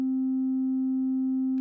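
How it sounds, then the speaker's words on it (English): Pure sine-wave test tone holding the note C, a steady single pitch that stays perfectly constant and clean, with faint low thumps near the end before it cuts off abruptly. "So we have a sine wave playing C,"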